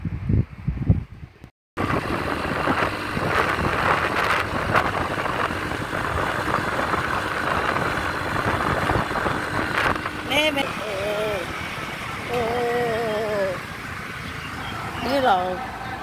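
A motorbike rides home from a market in Taiwan, its steady engine drone and rushing wind filling the whole stretch at an even loudness, with a voice talking over it.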